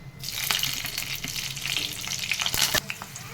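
Green chillies and curry leaves fry in hot oil in a pan for a hotel-style rajma curry, a steady close sizzle with stirring scrapes and a few sharp clatters of the spoon against the pan.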